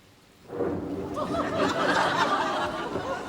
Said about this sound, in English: it's all right, it's just a bit of thunder